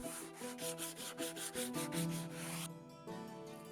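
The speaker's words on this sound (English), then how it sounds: "I brush it gently with some sandpaper" Sandpaper brushed over a burnt wooden bench top, rhythmic rubbing strokes repeating quickly and close, over soft background music, with no talk.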